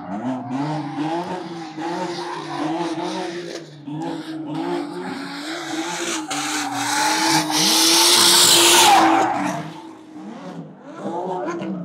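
A single-turbo drift car at a NASCAR speedway drones and revs, then its tires skid loudly in a swelling, hissing burst before the engine settles back. Voices talk faintly in the background.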